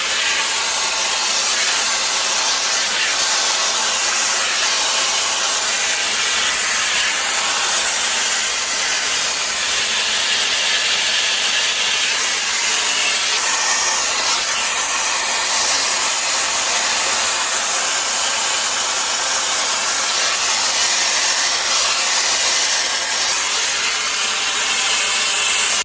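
A Shark FlexStyle hair dryer runs at its highest speed on the hot setting, blowing a loud, constant rushing roar that stays even and unbroken throughout, with no voices.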